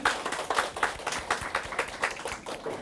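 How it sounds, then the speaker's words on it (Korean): Lecture audience at a public HSK Chinese study talk clapping together to open the session, a faint, fairly rhythmic patter of hand claps heard at some distance. "다 같이 박수로 시작을 해보죠"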